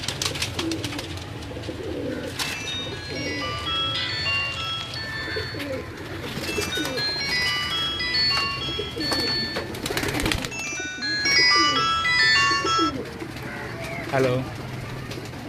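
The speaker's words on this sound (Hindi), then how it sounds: "ये मेरा बड़ा मेन कबूतर है सलारा।" A large Salara teddy pigeon coos repeatedly at close range. Someone talks throughout, and other bird calls and background noise add to a busy mix.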